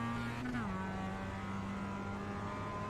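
A Mazda Miata race car engine in the iRacing video game, a steady, buzzing drone that dips briefly as if shifting gear, then holds a constant pitch throughout.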